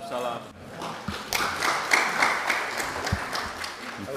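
Scattered applause from an audience at a Commission III parliamentary hearing with the deputy national police chief, irregular claps and taps rising and falling at moderate distance in a quiet room.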